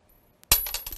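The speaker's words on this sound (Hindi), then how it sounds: "अब ये आखिरी बार हम 500 बार इन सिक्कों को उछाल रहे हैं।" Coins are tossed in a school heredity lesson and land with a sharp metallic clatter and a brief jingle as they settle, close by, with no talking.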